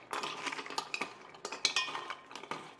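Spoon scraping and clinking against a bowl while leftover idli is stirred and mixed with rasam powder, a steady run of close, busy metallic taps and scrapes with no talk.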